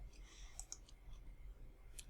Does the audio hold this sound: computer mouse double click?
yes